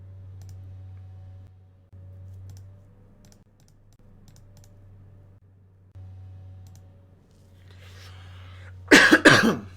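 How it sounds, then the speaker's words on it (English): Quiet keyboard clicks over a low electrical hum, then a sudden burst of harsh coughing, close and loud, near the end. "Sorry for coughing."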